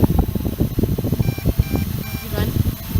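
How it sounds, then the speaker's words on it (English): An MJX Bugs B2W drone on a beach by the Gulf of Mexico gives faint, short repeated low-battery beeps, heard intermittently under people talking and steady wind rumble. "Yeah, it's beeping."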